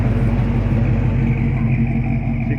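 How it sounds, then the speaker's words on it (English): A 1968 Chevelle pulling in at a car show, its engine giving a loud, steady low rumble that is close by and continuous, with no talking over it. "68 Chevelle right there pulling in."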